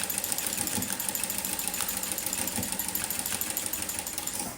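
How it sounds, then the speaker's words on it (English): An industrial sewing machine fitted with a ruffler foot set to ruffle every 12 stitches runs at a fast, even mechanical chatter, close and steady throughout. "So this is it, ruffling at every 12"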